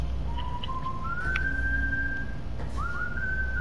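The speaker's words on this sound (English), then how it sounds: "Who's whistling?" A person whistles in the Far Cry 5 video game, a few thin sustained whistled notes rising in pitch, alone over a steady low ambient hum.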